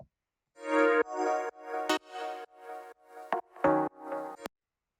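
Deep house synth chords play in short rhythmic stabs, warm and full, with brief gaps between hits and a few sharp percussive clicks.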